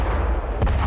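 A Chinese bomb test explosion lands as a short, deep, distant boom with a heavy low rumble.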